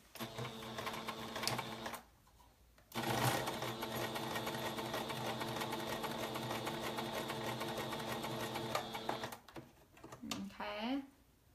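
A sewing machine stitching fabric for an open-back pullover with a lengthened stitch, humming steadily in long close runs with a brief pause, and a voice talking over it near the end.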